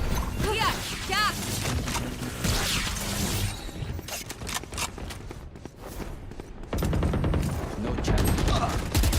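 Video game gunfire, bursts of rapid shots and scattered single cracks mixed with in-game effects and footsteps, heard under someone talking on and off.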